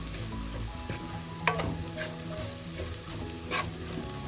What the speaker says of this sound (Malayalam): എല്ലാം കൂടെ ചേർത്ത് നല്ലതായി ഒന്ന് മിക്സ് ചെയ്യുക. ലോ ഫ്ലെയിമാക്കി മിക്സ് ചെയ്യണം.